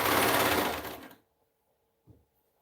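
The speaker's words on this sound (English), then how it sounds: "that is where I sew literally from top straight all the way down to the bottom" A sewing machine runs fast for about a second as it sews a seam straight down, then cuts out abruptly, followed by silence and one brief soft knock.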